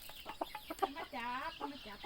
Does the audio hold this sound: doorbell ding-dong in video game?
no